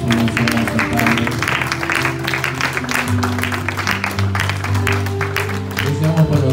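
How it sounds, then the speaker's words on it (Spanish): A church congregation at a Sunday worship service claps steadily, offering applause to Jesus Christ, loud and sustained over music. "A la ofrenda de palmas a Jesucristo"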